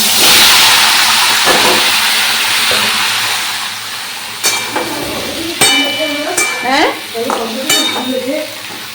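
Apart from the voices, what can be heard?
vegetables frying in a pan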